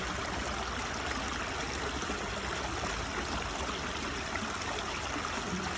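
Steady broadband rush of flowing water from a river canal in a suburb, continuous and even throughout with no voices.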